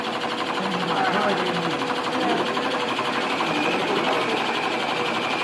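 Benchtop electric motor on a hybrid system-dynamics project, humming steadily and loudly throughout as its set point knob is turned, with a faint shift in pitch and talk underneath.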